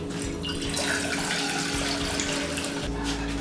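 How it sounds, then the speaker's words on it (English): Two cups of water poured into a cooking pot for oatmeal, a steady close splashing stream running continuously throughout with no talk. "fill this thing up with 2 cups of water, pour it into our pot"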